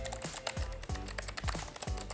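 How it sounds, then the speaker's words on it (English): Loud, crisp clicks from a wireless gaming keyboard with RGB lighting and music controls, struck in a steady run of close, sharp keystrokes with regular heavier thumps mixed in. "super clicky keyboard. It's a gaming keyboard, RGB lights, music controls over here"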